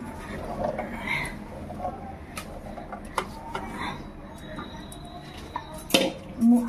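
A pressure cooker of soaked kabuli chickpeas is set on a kitchen stove. Scattered metallic clinks and taps sound close, with a sharper clank near the end over a low room background.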